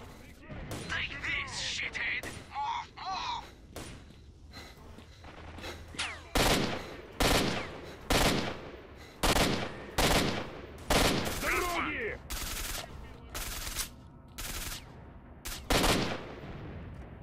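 Rapid bursts of video-game gunfire, including a rooftop sniper's shots, crack out in loud repeated volleys that dominate the second half, with scattered talk and quieter action sounds early on.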